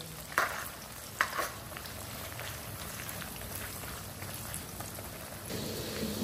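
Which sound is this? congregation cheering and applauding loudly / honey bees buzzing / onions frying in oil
onions frying in oil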